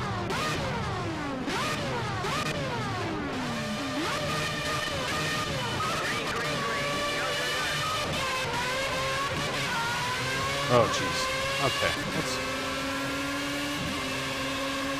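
An old-style Formula 1 car engine in the Project CARS racing game, screaming high revs that climb and drop repeatedly through gear changes, steady and loud throughout, with a few brief spoken exclamations over it.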